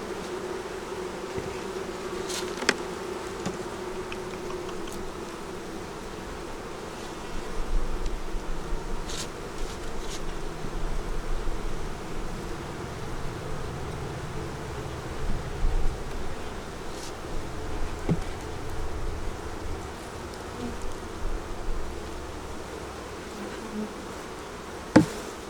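Honeybees buzz around their hive in cold weather, a steady, dense drone close by that swells and dips for the whole stretch, with a few sharp knocks and no talking.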